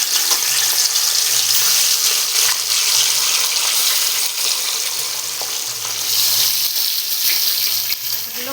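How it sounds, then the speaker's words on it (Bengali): Rohu fish pieces frying in hot oil produce a loud, continuous, close hiss and crackle with no talking. "তেল গরম হয়ে গেছে মাছগুলো ভেজে নেব"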